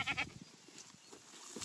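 Goats bleat while being herded, one wavering bleat up close at the start followed by quieter, fainter calls and shuffling from the flock.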